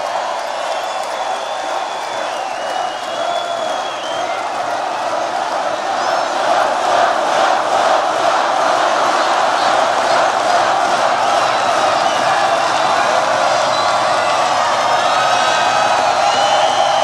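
A packed rally crowd in Loveland roars and cheers steadily, swelling louder partway through, with whoops mixed into the sustained wall of voices.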